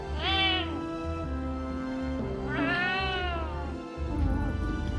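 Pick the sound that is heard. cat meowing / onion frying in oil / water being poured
cat meowing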